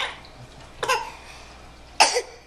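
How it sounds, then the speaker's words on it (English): Two sharp coughs about a second apart, close and fairly loud, with quiet room noise between them. "Ooh, big cough."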